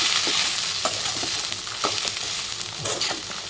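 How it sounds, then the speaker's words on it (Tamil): Grated coconut and cumin frying in a pan, a soft continuous sizzle with repeated scraping taps as they are stirred up close. "அந்த தேங்காய் நல்லா வணக்கிடணும்."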